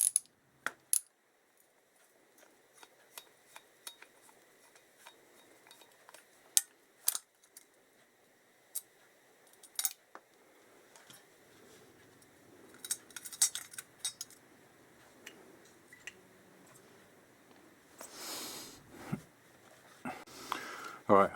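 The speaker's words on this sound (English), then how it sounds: "these screws out of the backing plate" Small metal clicks and taps come from screws being taken out of a backing plate on a Suzuki GSX1300R Hayabusa. Faint scattered ticks and rattles build into busier handling near the end, with a little quiet talk.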